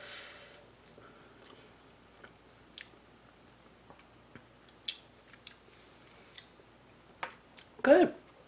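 Someone chews a mouthful of French onion rice cooked in an Instant Pot. The bites are soft, sporadic and close, with faint clicks and squishes and a louder crunch near the end in an otherwise quiet room.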